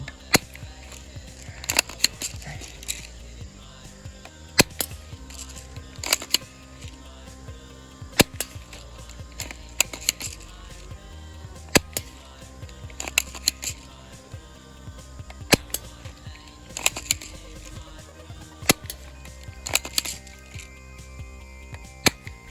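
A Sig Air MPX air rifle fires BBs in a steady series of sharp, close pops, about a dozen spaced a second or two apart, with faint mechanical clicks between shots.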